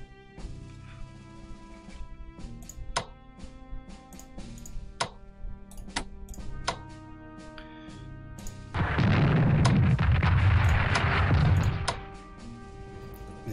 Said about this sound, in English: Alright, elite artillery.